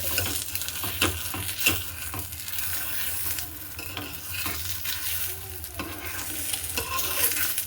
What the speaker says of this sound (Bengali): এই দেখো মেয়ের জন্য পোচ করে নিলাম ডিমের